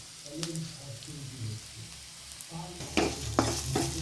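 Chutney ingredients for a flax seed chutney sauté in a pan until wilted, giving a steady close sizzle with a few sharper scraping stirs toward the end and faint background voice.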